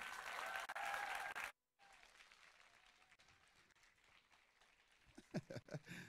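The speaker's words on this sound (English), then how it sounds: "You guys keep clapping for him" Audience applause after a talk arrives as a fuller burst that suddenly cuts out, followed by softer, scattered clapping and a few sharper claps near the end, all faint and distant.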